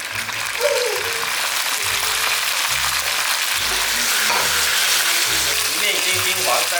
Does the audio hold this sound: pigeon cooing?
no